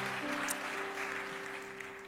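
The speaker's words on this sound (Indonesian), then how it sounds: "Berikan tepuk tangan buat Tuhan kita." A church congregation claps during a worship service, a soft, dense patter of many hands heard at a distance, with a sustained musical tone from a keyboard or organ running underneath.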